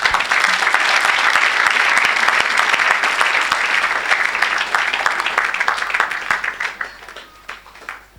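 A church congregation bursts into sustained loud applause during a healing service, the clapping dense and steady at first, then thinning into scattered claps toward the end.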